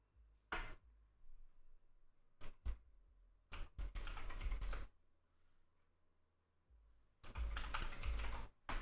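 Fast bursts of computer keyboard typing, quiet and close, with separated clicks and dense runs of keystrokes broken by short pauses.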